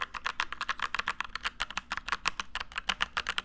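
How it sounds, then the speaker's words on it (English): Rapid, steady typing on a mechanical keyboard with tactile switches, each keystroke a crisp, close click in a dense, even rhythm, with no voices. "Tactile keys normally have a medium sound and a little bump at the bottom of the press"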